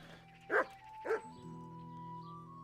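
Two short, loud dog barks from a mutt in the medieval video game Kingdom Come Deliverance, about half a second apart over a steady game music or ambience bed, with no talking.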